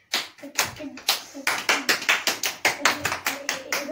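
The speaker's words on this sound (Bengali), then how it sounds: "হাততালি।" Hands clap in a quick, uneven rhythm at a Teachers' Day celebration, loud and close, with overlapping claps from several people and faint voices underneath.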